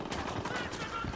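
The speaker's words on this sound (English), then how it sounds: "I'm opening fire" Rapid gunfire in the shooter game Ghost Recon Wildlands as a squad opens fire on enemies near a smoldering village, a quick burst of several close shots over game ambience.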